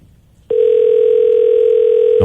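A single long ring-back tone sounds during a phone call, starting abruptly after a brief quiet moment and holding steady and loud to the end with no voices.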